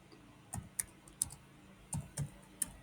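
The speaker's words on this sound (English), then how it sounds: "So let me just type this" Keys on a computer keyboard are tapped in short, irregular clusters of crisp clicks, close and fairly quiet, with pauses between bursts and no speech.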